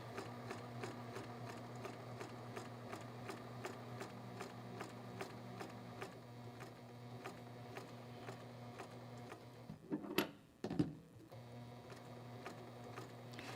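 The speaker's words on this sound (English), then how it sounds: "This is the slowest I've ever sewn in my entire life." A sewing machine stitches a quilt slowly with a very small stitch length, giving a steady, even mechanical ticking rhythm close by, with a couple of brief louder knocks near the end.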